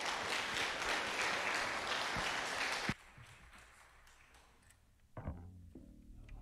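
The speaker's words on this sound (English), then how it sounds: "let's give a hand clap of praise to the Lord" A church congregation gives a hand clap of praise, loud sustained applause filling the room for about three seconds before fading to scattered claps and quiet thumps.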